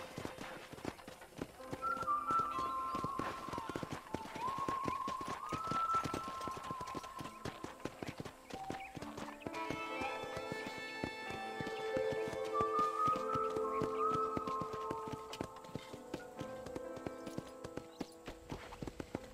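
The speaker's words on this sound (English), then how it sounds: "I picked out a fine horse for you" Horse hooves clip-clop steadily at a walking pace through a Red Dead Redemption ranch ride, moderately close and continuous beneath music and occasional voices.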